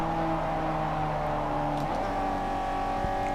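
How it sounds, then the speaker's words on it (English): A rotary-engined race car in Forza Motorsport 4 holds a steady high engine drone with shifting harmonic tones, loud and close with no voices. "This doesn't really sound like a rotary anyways."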